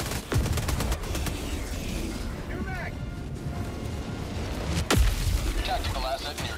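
Gunfire in Helldivers 2, rapid bursts of shots with heavy booming impacts, loud and close, with a sharp blast near the start and another around the middle, while voices talk over the action.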